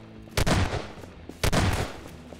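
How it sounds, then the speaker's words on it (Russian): Two loud, close shotgun blasts in Garry's Mod, about a second apart, each a sharp boom with a short rumbling tail and no talk over them. "я тебя тогда просто с дробовика вынесу"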